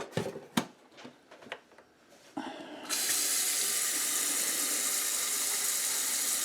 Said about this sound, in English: I'm going to refill the filter, and we're going to add a little bit more water.